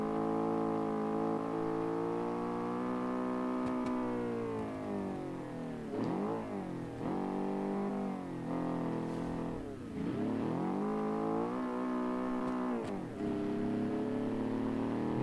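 Classic rally race car with the most powerful engine in the field, in a 1957-season racing game: a loud, sustained engine drone climbing and falling through repeated rev sweeps and gear shifts, alone without talk.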